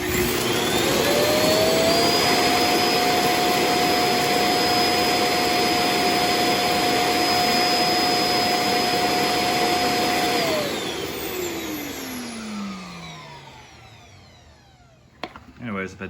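A Proscenic M7 Pro self-emptying dock sucking the dustbin of a robot vacuum clean, a loud steady whining suction roar with a sustained tone that spins down and fades, followed by a few soft clicks.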